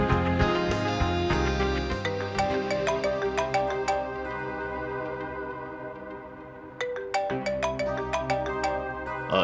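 A mobile phone ringtone plays a bright, repeating melodic tune that rings on steadily and loudly for several seconds, restarting its phrase near the end, with no voices over it.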